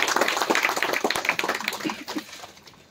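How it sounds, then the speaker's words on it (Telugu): An audience breaks into a burst of dense, close clapping that holds strong for a couple of seconds, then thins out and fades. "అందరూ గట్టిగా చప్పట్లు కొట్టాలా?"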